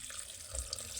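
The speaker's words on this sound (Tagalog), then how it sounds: "Buksan natin. Magdagdag tayo ng water." A kitchen tap runs in a steady, faint stream to add water to a pot, a short continuous wash of sound.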